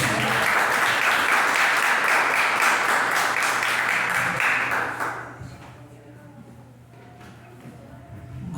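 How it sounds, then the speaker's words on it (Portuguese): A church congregation breaks into sustained, loud applause lasting several seconds, then it fades out, leaving a quiet hum. "As palmas são para Jesus."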